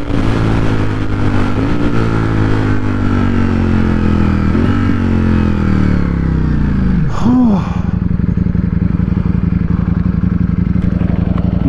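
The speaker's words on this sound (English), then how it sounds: "Oh my god, the engine sounds amazing." Ducati Streetfighter V4S motorcycle engine revving loud and close while riding, pitch climbing through gears with a sharp gear-change dip, steady throaty roar throughout.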